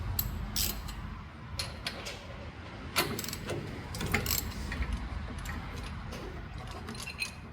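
Metallic clinks and rattles of plug wires and spark plugs being pulled from a Harley Panhead engine in a garage, scattered light taps and jingles over a low steady background rumble, close and fairly quiet.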